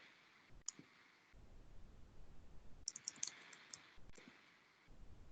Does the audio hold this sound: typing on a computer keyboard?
yes